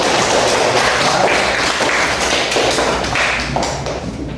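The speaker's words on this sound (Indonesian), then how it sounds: "kita memberikan tepuk tangan" A classroom of students applauding during a mathematics lesson on linear equations, dense loud clapping close by that stays steady and eases off slightly at the end.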